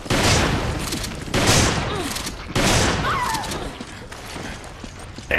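Gunfire in Resident Evil 5 Versus comes as a few loud, broadband bursts several seconds apart, each decaying into game ambience, with players talking around the shots.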